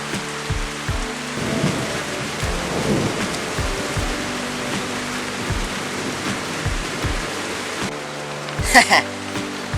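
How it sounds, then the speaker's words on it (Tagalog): Steady rain pours throughout, with low thunder rumbling repeatedly underneath; a brief sharper crackle rises near the end. "Wow, sarap sa pakiramdam pag umuulan."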